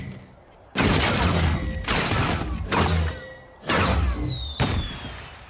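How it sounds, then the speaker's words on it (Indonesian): Several loud cartoon fireworks burst one after another, each boom followed by crackling and whistling trails that fade before the next explosion. "Lalu kenapa mereka memulai pertunjukan kembang api?"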